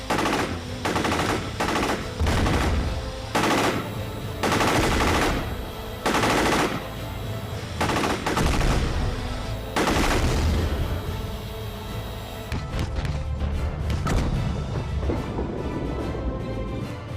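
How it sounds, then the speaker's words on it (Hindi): A submachine gun mounted on a four-rotor quadrotor drone fires repeated loud bursts of rapid shots, separated by short pauses, close and harsh throughout. "ये है क्वाड्रोटर, जिसमें बांधी गई है एक सब मशीन गन"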